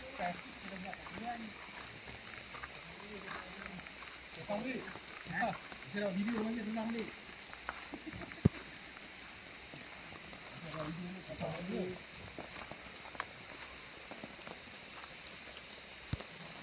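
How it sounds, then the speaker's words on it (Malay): Steady morning rain falls through a forest at a campsite in Teluk Bahang, a soft continuous patter with scattered drips, while people talk quietly nearby throughout. "Suasana pagi, hujan"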